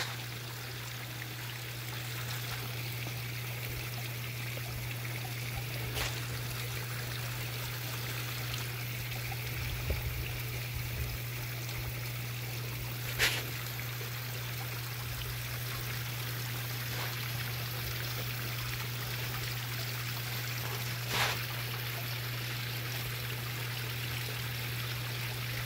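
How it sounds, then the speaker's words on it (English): A pond filter pump runs with a steady low hum under a continuous soft rush of flowing water. The sound stays even throughout, with a few faint clicks. "You can hear the pond working, or the pond pump working."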